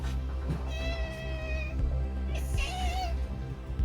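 A cat gives two drawn-out meows close by, the second rising and more plaintive, over a low steady background hum.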